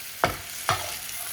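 A spoon stirs masala in a pan over a steady sizzle, with two distinct scraping strokes that ring close and clear and no voices.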